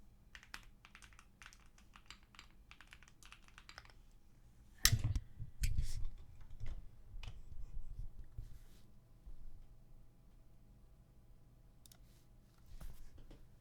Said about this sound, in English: and we'll do a typing test.